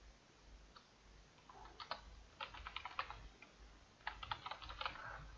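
Quiet bursts of typing on a computer keyboard, scattered clusters of key clicks with short pauses between them, no voices.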